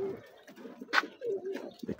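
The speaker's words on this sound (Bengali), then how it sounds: "এই যে কবুতরটা দেখছেন" A pigeon coos close by in a quick, soft burst of low throaty notes with a short sharper accent in the middle.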